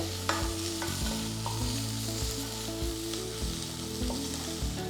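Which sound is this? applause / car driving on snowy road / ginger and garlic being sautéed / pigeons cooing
ginger and garlic being sautéed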